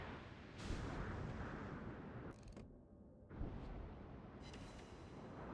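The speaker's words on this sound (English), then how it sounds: "Those are 16-inch shells from that North Carolina back there" The battleship North Carolina fires 16-inch shells in the World of Warships video game: two deep, booming blasts with rumbling tails, separated by a brief lull, loud and close with no talking.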